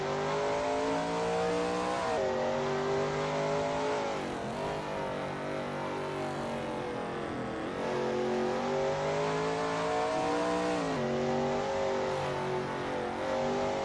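A Shelby Mustang GT350R races around the Zandvoort circuit in a racing game, its engine droning loudly and steadily as it rises and drops with gear changes and throttle, alone with no talk.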